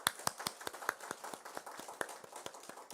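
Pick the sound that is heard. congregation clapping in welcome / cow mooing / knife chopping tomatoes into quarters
congregation clapping in welcome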